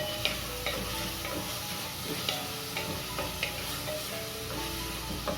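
Shallots stirred as they fry in a pan for Kerala mutton curry, a steady close sizzle with scraping and ticking spoon strokes against the pan.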